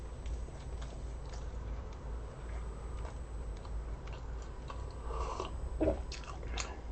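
Someone eats a diet meal of boiled food in unsalted broth, with soft close chewing and a few crunchy bites under steady low background hiss, and no talking.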